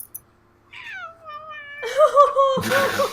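A house cat gives a long, drawn-out meow that bends downward, followed by louder, rougher cat cries mixed with noisy room sounds near the end.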